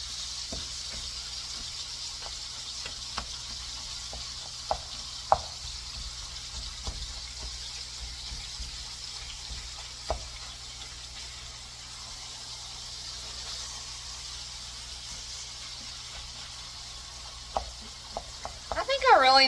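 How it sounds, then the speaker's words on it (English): Hamburger meat browning in an old, well-worn skillet, a soft steady sizzle with occasional light stirring clicks, fairly close and without talk. "browning our hamburger meat."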